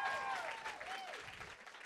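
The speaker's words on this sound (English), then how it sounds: "So give him a round of applause for that." Audience applause at an author talk, a faint, distant round of clapping from a seated crowd, mixed with a voice speaking over the start of it.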